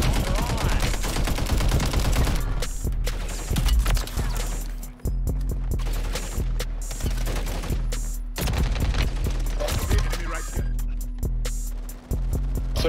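Gunfire in Call of Duty with an MTZ 762 rifle build, dense rapid bursts of shots and automatic fire crackling almost continuously, loud and close, with short gaps between volleys.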